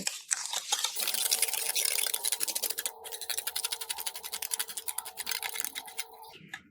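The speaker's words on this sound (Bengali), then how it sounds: "চিনিটা দিয়ে আবারও ভালো করে মিশিয়ে নেব" Sugar being stirred by hand into beaten egg for jamai or fuljhuri pitha batter, a rapid scraping whisk against the bowl in steady rhythmic strokes, close and fairly loud, fading toward the end, with no talk.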